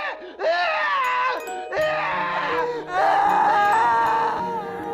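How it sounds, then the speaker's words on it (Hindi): A woman wails, shrieks and moans in long anguished cries in a village hut at night, loud and close, with a sustained low drone beneath the later cries. "रात में रूपा के चिल्लाने, चीखने और कराहने की आवाजें आती थी गाँव वालों को"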